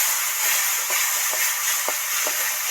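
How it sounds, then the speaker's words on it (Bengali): Cumin, coriander and chili powder frying in a pan after a sprinkle of water, a loud, steady sizzling hiss with a few soft stirring scrapes spaced through it, no voices. "মশলাগুলো সুন্দর করে ভাজা হওয়ার জন্য একটু জল ছড়া দিলাম।"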